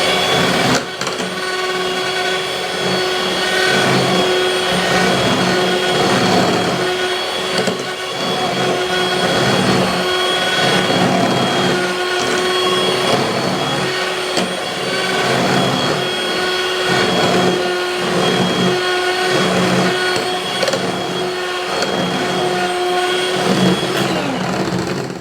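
An electric mixer beats cake batter made without oil, butter, baking soda or baking powder, whirring loud and steady for the whole stretch with a faint rhythmic pulse from the beaters.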